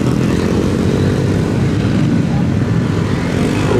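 A Yamaha DragStar Classic motorcycle rides through a section of turns on a gymkhana course. Its engine drones steadily and loudly throughout, and a commentator's voice is faintly mixed in.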